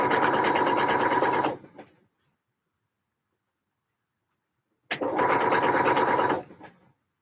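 Two close, loud bursts of sewing machine stitching, each about a second and a half long with a quiet gap between, basting the sides of a brushed cotton twill piece.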